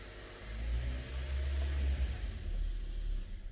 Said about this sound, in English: I'm gonna force the car on now myself.